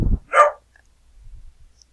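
A few dogs bark at close range: a sharp yelp or bark right at the start, then quieter low rumbling sounds trail off, with no talking.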